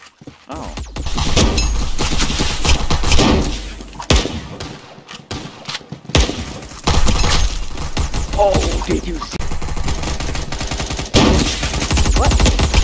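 Bursts of gunfire from the online shooter Caliber, loud and repeated in rapid volleys with sharp cracks and brief gaps, mixed with game action noise and someone talking over it.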